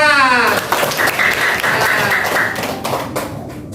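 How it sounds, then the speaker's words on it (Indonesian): A classroom group claps in a burst of lively applause after a series circuit with one switch and three lamps lights up, the clapping fading over a few seconds. "tepuk tangan"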